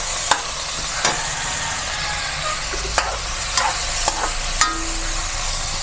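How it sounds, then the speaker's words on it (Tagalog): Chicken gizzards fry in a pan with a steady, continuous sizzle, broken by several sharp scraping knocks from a utensil stirring them, all close and without voices. "Balon-balunan muna kasi mas matagal itong lumambot kesa sa atay. Yan, mix-mix po natin."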